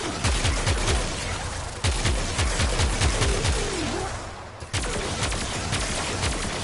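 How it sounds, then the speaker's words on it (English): Rapid automatic fire from the Opticor Vandal in the video game Warframe, in three sustained bursts of fast, evenly spaced shots with a brief break between them and no talking. "It's like, it's a machine gun OPTICOR."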